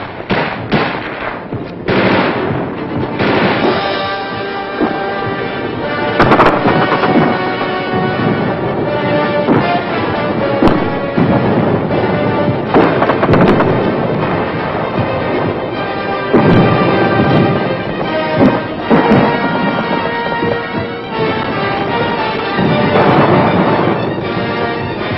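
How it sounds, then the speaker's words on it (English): Heavy gunfire during the Viet Cong Tet attacks in the streets of South Vietnam, dense bursts of automatic and single shots crackling continuously, loud and close, with no voices. "Gunfire roared in the streets"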